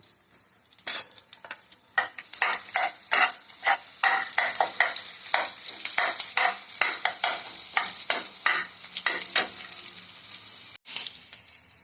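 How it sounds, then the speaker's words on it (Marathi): A pan of stir-fry for chowmein is worked with a spatula, giving a rapid run of loud, close scraping and clattering strokes over a faint background sizzle, with a brief pause at the start. "तेल गरम झालं की त्यात आता लसूण टाकून घेऊ आणि याला चांगला करपून घेऊ."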